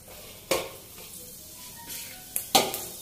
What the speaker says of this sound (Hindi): ऑयल हमारा गर्म हो चुका है, तो हमने यहाँ पे डाले हैं थोड़े से मेथी के दाने